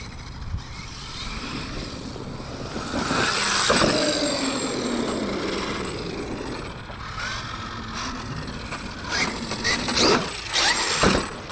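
Traxxas X-Maxx Ultimate RC monster truck with mod 1.5 gearing running, a continuous whining, grinding drivetrain and motor noise with rising and falling pitch and rattly mechanical clatter, steady and moderately close, no talk.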